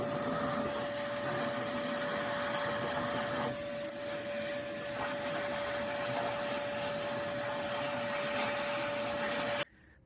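Shop vacuum sucking debris out of a Toyota 3K carburetor, a steady close whining roar with a constant high tone that runs nearly ten seconds before cutting off abruptly.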